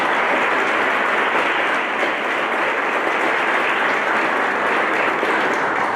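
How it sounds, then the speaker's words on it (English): A packed keynote audience applauds Keith, a dense, even wash of many hands clapping that holds steady and loud throughout. "So let's please give Keith a big round of applause."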